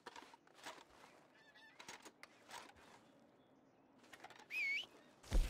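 In Red Dead Redemption 2, a flock of geese honks intermittently, with short separate calls spread out over a quiet background and a louder, closer call near the end.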